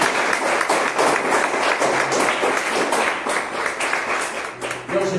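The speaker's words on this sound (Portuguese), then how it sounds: "Então uma salva de palmas para o Senhor nesta noite." Church congregation applauding during an evening worship service, a dense, steady wash of many hands clapping that fills the whole stretch and tapers slightly near the end.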